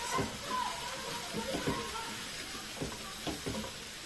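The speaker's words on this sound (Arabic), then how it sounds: "هنشوح بقى الباميه كويس" Okra sautéed in a pan for an okra and kofta casserole, sizzling softly with a few scraping stirs, close but quiet, and a voice speaking over it.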